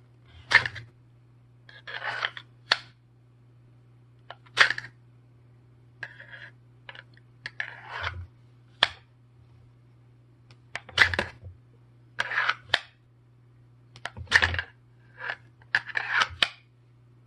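A Tops Bob knife handled in its sheath gives off a series of short, crisp clicks, scrapes and rustles in irregular bursts, close and fairly quiet over a low steady hum, with no talking.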